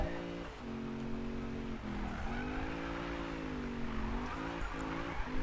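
A car drifts in Need for Speed (2015, PS4): the engine drones and rises and falls in pitch while the tyres squeal continuously through the slide. It is loud and close, with no talking.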